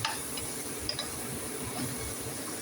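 Chicken and potatoes fry in a pan with a steady, fairly loud sizzle throughout, broken by a few faint stirring clicks and no speech.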